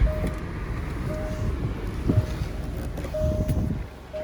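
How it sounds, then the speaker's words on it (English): A parked car sits idling with its engine running, a low steady rumble heard from outside the vehicle with wind noise buffeting the microphone. "Car's in park, and I'll hop out with it running and let you have a listen and a look."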